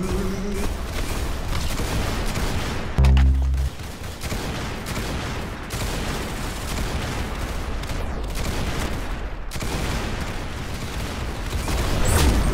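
Dense, continuous gunfire and explosions in the Roblox game Arsenal roar for the whole stretch, a loud, unbroken barrage with a brief heavy boom near the start.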